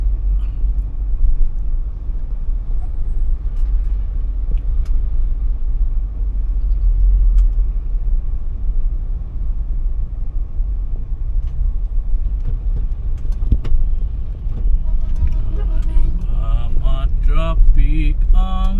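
Stop-and-go road traffic on North Ave in Quezon City heard as a steady low engine rumble from inside a vehicle, continuous for the whole stretch, with some talking near the end.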